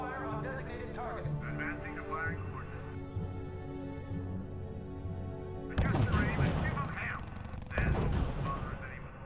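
Artillery and gunfire thunder in the World War II strategy game R.U.S.E., heavy bursts arriving in two loud waves over radio-style voice chatter and a low battle rumble.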